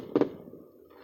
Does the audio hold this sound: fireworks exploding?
yes